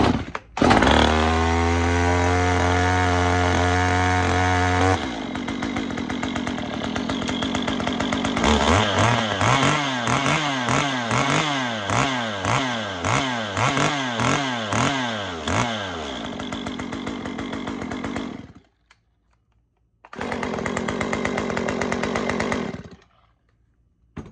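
A Stihl 193T chainsaw with a swapped case starts and runs at fast idle, a loud close buzzing drone with rapid revving surges, then cuts out briefly, restarts and stops again.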